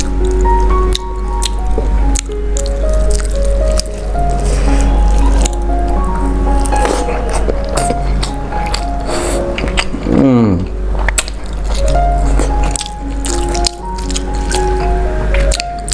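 Mung dal cooked with ridge gourd is taken up during a meal, giving close, wet squishing and dripping sounds against soft background tones, with brief clinks and a gliding squeak partway through.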